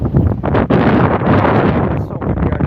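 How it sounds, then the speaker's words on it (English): Steady, loud wind blows outdoors and buffets the microphone close up with a continuous rough roar and brief dips. "It's so windy out here"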